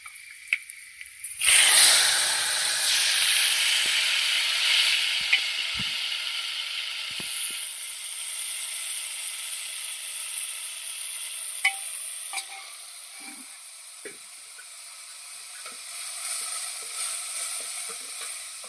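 Whole garlic cloves hit hot oil in a pan for a tempering while cooking an urad dal curry, bursting into a loud close sizzle that settles into steady frying crackle with occasional stirring clicks, no talk.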